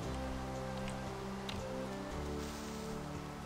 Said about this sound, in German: Und es regnet immer noch.